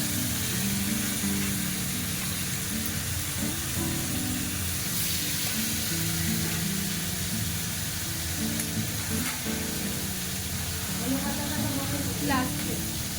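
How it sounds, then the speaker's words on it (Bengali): Pieces of katla fish fry in hot oil with a dense, steady, close sizzle and crackle that holds constant throughout, with occasional spits and a faint voice in the background. "এবার আমি মাছগুলোকে দিয়ে দেবো তেলের মধ্যে।"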